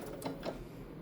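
A Bernina B790 PRO sewing machine whirs steadily up close while stitching an automatic buttonhole, its needle mechanism ticking in a quick, even rhythm.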